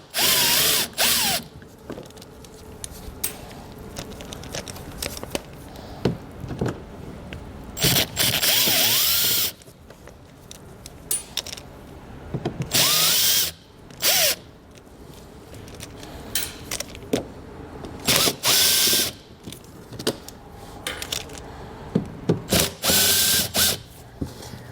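Power drill with a T15 Torx bit backing screws out of a 2019 Chevrolet Equinox wheel well liner, loud bursts of whirring separated by pauses and clicks, repeated several times close up.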